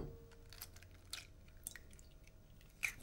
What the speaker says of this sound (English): Crack 4 eggs into a large mixing bowl.